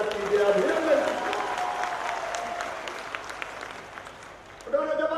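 A crowd applauds at a public rally in Niranjanpur, Sanwer, held by the Madhya Pradesh Chief Minister. The moderate, steady clapping sounds somewhat distant and is heard under an amplified speaker's voice, which returns strongly at the end.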